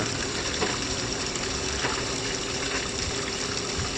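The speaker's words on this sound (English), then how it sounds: "so let's start the bilge pump and we'll start the timer" A battery-powered bilge pump runs steadily aboard a boat, its motor hum blending with the continuous rush and splash of water being pumped out, heard close and unbroken with no talk.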